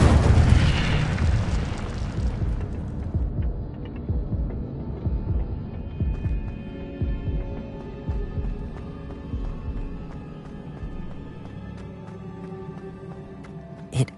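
Incendio fire spell cast in Hogwarts Legacy, a loud whooshing blast with a booming burst at the start that rolls into a long crackling, rumbling fire decaying over several seconds, with faint game music tones lingering underneath.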